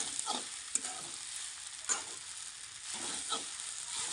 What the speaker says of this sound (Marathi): फक्त जिरं नाही खिचडीमध्ये हे सगळं मिक्स करायचं